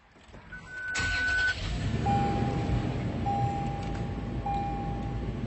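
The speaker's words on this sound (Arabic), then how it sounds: "طبعا نشغل السياره." A 2021 Toyota Land Cruiser GXR engine starts with a sudden burst about a second in, then settles into a steady, close idle rumble while several thin dashboard chime tones sound over it.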